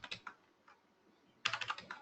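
Computer keyboard keys are pressed during a JDBC programming class: a few isolated taps, a pause, then a quick close burst of typing.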